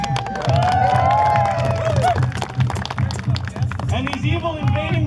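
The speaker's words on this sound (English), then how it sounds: "big cheer." A big crowd roars with a sustained cheer at a staged battle between the White Wolves and the Black Spears, loud and dense throughout with shouting voices over a steady rumble of noise.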